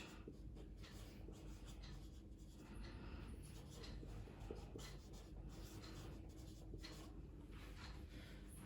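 Chalk or marker scratching steadily across a board during an accounting lesson, a continuous faint scraping texture with no talk over it.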